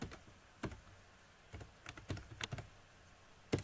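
Keys clack on a computer keyboard in short irregular bursts of taps with pauses between, close and fairly quiet, with no voices.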